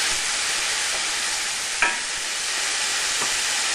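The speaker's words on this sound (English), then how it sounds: "I've got some finely chopped garlic here, so we'll just pop that in" Finely chopped garlic sizzling in a frying pan for spaghetti bolognese, a loud steady hiss of hot oil with a few brief utensil scrapes and stirs, close up and uninterrupted by talk.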